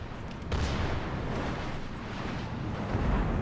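Heavy naval guns from a Yahagi cruiser firing at the player's destroyer in a World of Warships-style battle, a sharp booming onset followed by a long rumbling roar of blasts and water impacts that stays loud throughout.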